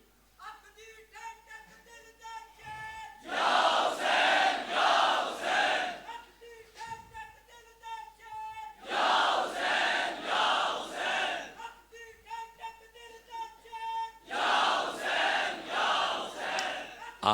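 A large crowd at an annual dhikr gathering in a central Jamia mosque in Pindigheb roars a religious slogan in three loud, sustained bursts. Between the bursts a single voice recites and leads.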